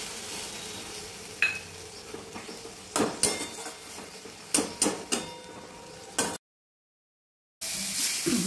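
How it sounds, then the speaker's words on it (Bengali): Greens are stirred in a cooking pan, with a series of irregular metallic knocks and scrapes over a low sizzle, then a brief gap of silence before the frying noise resumes. "সব একসঙ্গে ভালো করে নেড়ে নেবো।"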